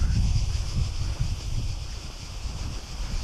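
Wind buffets the microphone on the south coast of Zakynthos near a campground, a steady low rumbling roar with gusty swells and a faint airy hiss above, continuous and close.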